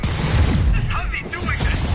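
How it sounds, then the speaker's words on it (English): A grenade going off in Marvel's Spider-Man amid combat, heard as a short muffled boom with mechanical clatter and busy game effects, mixed under voices. "Tossing grenade!"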